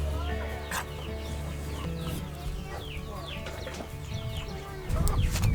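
Backyard chickens cluck and chatter continuously, with overlapping calls from several hens close by, a steady low hum underneath and a louder burst near the end.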